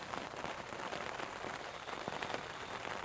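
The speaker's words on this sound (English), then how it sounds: "it's been raining solid since 2 o'clock this morning" Steady rain patters on a garden, a soft continuous hiss dotted with individual drops, quiet and unbroken.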